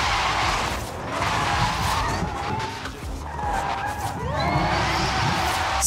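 A 2024 Hyundai N Vision 74 drifts in Forza Horizon 5, its tires squealing and skidding continuously over a revving engine. The squeal rises and falls as the car holds long slides, loud and close throughout.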